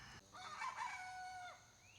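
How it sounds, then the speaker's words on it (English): A young rooster crows once at a farm, a strained, squeaky call that rises and wavers for about a second before trailing off, fairly close and alone with no talk. "I got rooster crowing again."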